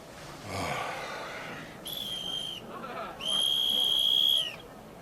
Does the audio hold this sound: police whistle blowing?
yes